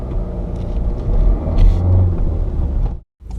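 A manual car's engine revs up loudly as it moves off on a flat road, a deep rumbling roar that swells and falls, then cuts off briefly before resuming near the end.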